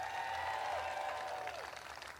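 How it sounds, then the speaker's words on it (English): Crowd applause at the AIDS Walk Los Angeles kickoff, faint and distant, a soft patter of clapping with some tonal ringing over it, lasting a couple of seconds. "Give them a big round of applause"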